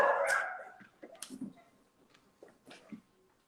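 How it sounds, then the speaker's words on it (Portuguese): Small dog barking in the background at home: a near bark at the start, then several short, faint yips and barks spaced irregularly across the clip. "Tem cachorro aí."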